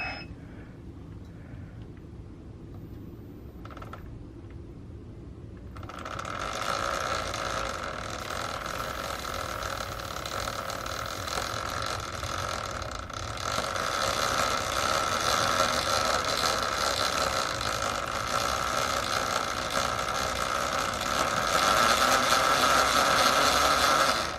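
A Zero FX electric motorcycle runs on a stand after the rider switches it on, its chain turning with a steady, loud whirring hum that starts after a few seconds of quiet and grows slightly louder, with no talk.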